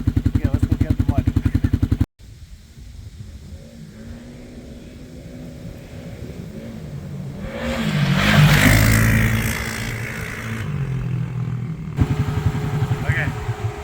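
A Can-Am Outlander 700 XMR quad rips around a dirt track, its engine droning under a voice and then surging loudly for a few seconds before easing off.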